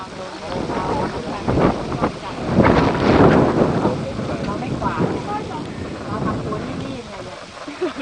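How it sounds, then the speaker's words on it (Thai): Strong wind gusting across an open green rice field beside a canal during a bicycle ride, a steady broadband rush that swells loudest around the middle and buffets the microphone, with someone speaking briefly over it. "วันนี้ลมแรงครับอากาศดี"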